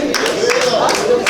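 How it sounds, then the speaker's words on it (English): An audience at an anniversary celebration applauds a prize winner, a steady burst of many hands clapping at close range with voices mixed in. "a round of applause for him"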